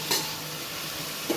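Tomatoes and green chillies sautéing in a pan, a soft steady sizzle with a couple of brief stirring scrapes, quiet and close, no talk.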